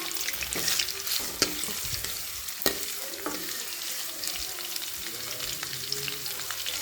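Onions, rock salt and green chillies sauté in a pan with a steady sizzle. Occasional sharp scraping and stirring knocks sound over it.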